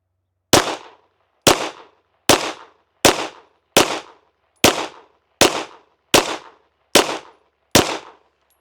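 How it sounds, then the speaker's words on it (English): A SAR9 Socom pistol fires ten rounds of CCI Blazer ammunition at a target in ten sharp, loud, evenly spaced shots about a second apart, each followed by a short decaying ring, with no talking. "Let's shoot a group at that bottom left target."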